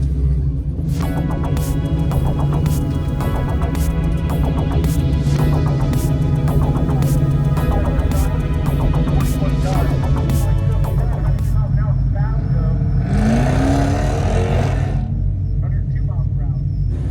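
A Hemi-swapped 1970 Challenger and a 1971 El Camino SS rumble loudly through a street-style drag race, a heavy continuous engine roar with rising revs and a whoosh passing near the end.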